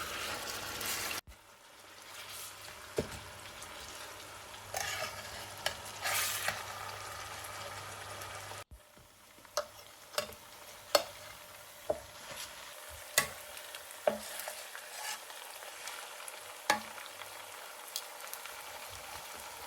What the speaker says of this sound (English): Fry the meat with the spices until you achieve a nice sear